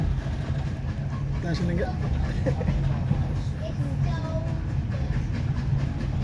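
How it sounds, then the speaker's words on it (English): Steam train carriage rolling along the rails between Minehead and Watchet, a steady low rumble with faint clatter beneath, while an adult talks to a child over it. "You're riding the choo-choo train."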